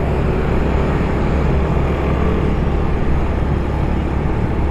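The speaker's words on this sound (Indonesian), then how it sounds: "Mantap tuh motor suaranya ya." A Kawasaki motorcycle engine roars through congested city traffic in Manado, a loud, continuous low rumble that holds steady without pauses, mixed with general street noise and no talking.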